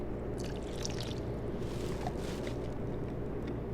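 A small splash of water poured into a pot of chicken kabsa seasoned with paprika, ghee and salt, a soft steady trickling wash over low kitchen rumble, with no talk.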